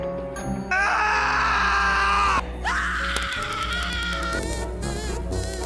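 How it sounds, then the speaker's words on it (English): In a horror video game, the character Albert lets out wailing, pitched screams: a long strained cry, a short break, then a second bending wail, with softer tones and buzzing game sounds under it. No one talks. "Albert scream."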